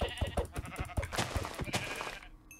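Sheep in the video game Minecraft bleat in a rapid, repeated series of short nasal calls, fairly close, tapering off into quiet at the end.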